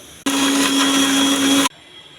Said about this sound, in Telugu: కొబ్బరి కూడా చిన్న చిన్న పీసులు చేసుకొని మిక్సీలో వేసుకోవాలండి